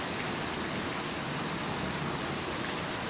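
Steady rain falls without pause in a neighbourhood during a flood, a dense even hiss of drops on surfaces that runs the whole stretch with no voices.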